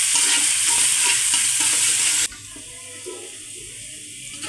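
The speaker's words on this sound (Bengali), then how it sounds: "পেঁয়াজটা একটু ভেজে নেব।" Chopped onion frying in soybean oil, stirred in a pan for fish roe bhuna: a loud bright sizzle with scraping stirs that drops abruptly to a softer crackle halfway through.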